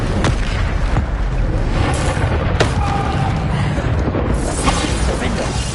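In a Harry Potter video game, Bombarda spell explosions go off amid a dense, loud wash of booms and crackling impacts, several sharp bursts standing out over continuous battle noise.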